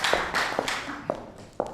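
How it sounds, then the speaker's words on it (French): A handful of scattered, separate hand claps from the audience at a mentalist's mind-reading magic show, spaced irregularly and fairly close, with no voices. "On peut l'applaudir bien fort."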